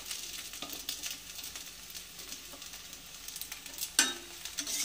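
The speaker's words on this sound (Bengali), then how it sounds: "তেল গরম হয়ে গেছে, ওই তেলে আমি বেগুনগুলো দিয়ে দিচ্ছি।" Eggplant pieces drop into hot oil in an iron wok and fry with a bright, hissing sizzle, a sharper burst of crackle as more pieces go in, near and steady, with no speech.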